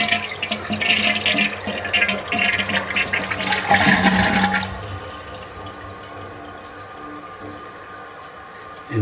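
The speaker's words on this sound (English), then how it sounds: "But when you flush, this is what happens." An old toilet being checked for a leak is flushed, sending a loud rushing swirl of water for about four seconds that then settles into a quieter, steady refill trickle.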